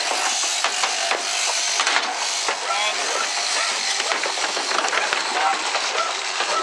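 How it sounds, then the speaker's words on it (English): A Perkins CrutchMaster machine runs with a loud, continuous bright hiss and clatter, steady throughout with small bumps and knocks, and no voices over it. "So we're here with our Perkins Crutchmaster"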